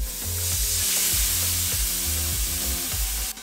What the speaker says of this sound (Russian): И отправляем на горячий гриль